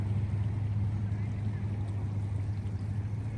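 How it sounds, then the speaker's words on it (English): Kings Creek, a babbling brook in a meadow of Lassen Volcanic National Park, gives a steady, broad rushing wash of flowing water, close and continuous with a low hum beneath. "Well, this is a beautiful babbling brook."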